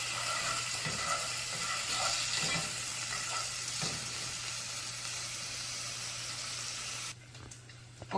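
Bacon fries in a pan for a Southern Sunday dinner, giving a steady, close crackling sizzle with a low background hum that drops away near the end, and no voices.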